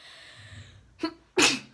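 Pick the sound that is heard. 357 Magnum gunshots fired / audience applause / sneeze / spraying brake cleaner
sneeze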